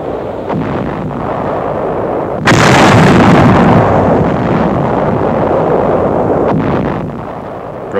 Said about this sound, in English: Nazi counter-battery fire.